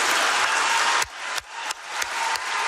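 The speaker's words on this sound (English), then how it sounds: "The applause and that final gavel dropping after a marathon, 24 hours of debate on the House floor." Applause fills the state House chamber after a bill passes at the end of a 24-hour debate, a dense, loud burst of clapping that breaks off into a few sharp, evenly spaced knocks from the final gavel.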